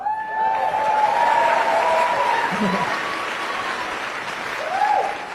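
Steady audience applause fills an indoor talk, close and moderately loud, with a speaking voice running over the clapping throughout.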